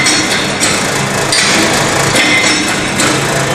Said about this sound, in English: again 56 number of blows will be given using the compactor